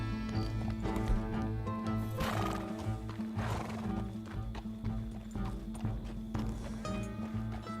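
A horse in the video game Red Dead Redemption 2 whinnies and neighs loudly while hooves clip-clop on the ground, with game music playing steadily beneath.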